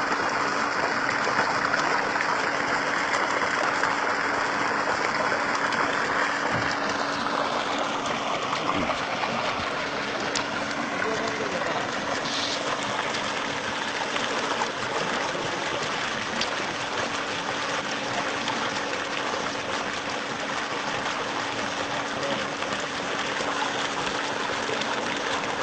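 Water gushes steadily from a solar-powered pump outlet, a continuous close rush of splashing flow that stays loud and even throughout with no talk over it.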